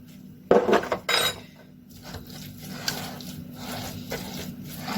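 A spoon stirs paprika-and-spice-seasoned chicken in a pan for a potato and chicken tray. A few sharp metallic clanks come early, then softer continuous scraping and shuffling, close and without talk.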